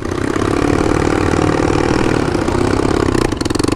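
A Today scooter with a loose exhaust idles loudly and close by, giving a steady, throbbing putter that grows uneven and choppier near the end.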